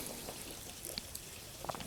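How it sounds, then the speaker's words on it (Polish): Warm water poured over bananas in a jar, a soft, faint trickle and light splashing, running continuously and close under a low background hiss. "Zalewamy, słuchajcie, to w miarę ciepłą wodą"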